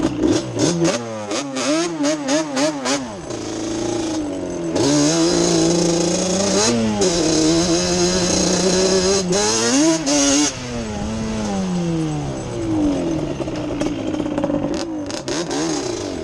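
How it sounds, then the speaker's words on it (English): A 2006 special edition four-wheeler ATV on its stock motor revs up and down repeatedly, the engine pitch climbing and falling in several throttle blips before settling into a steadier run, loud and close throughout. "Not a bad running little four-wheeler. sound pretty good on the stock motor."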